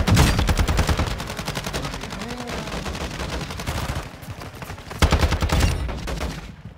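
Video game gunfire, rapid bursts of automatic shots in quick succession, loud and close, pausing briefly before another burst.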